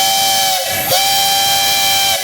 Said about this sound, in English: Give him the whistle, Willie.